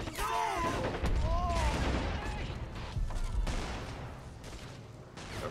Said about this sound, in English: You guys are getting hit by machine guns bad.